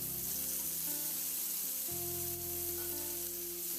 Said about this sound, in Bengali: লবণ আর হলুদ মাখানো কাঁকরোলটা তেলের মধ্যে দিয়ে খুব ভালো করে কাঁকরোলটাকে ভেজে